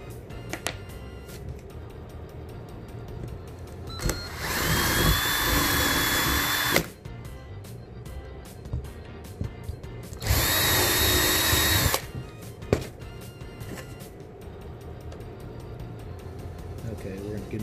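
A power drill bores holes for screws while a Lamborghini Huracan garage sign is being built, two loud whining bursts of a few seconds each separated by quieter workshop noise and clicks.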